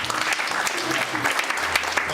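A church congregation bursting into applause and cheers during a sermon, dense crowd clapping with excited voices mixed throughout.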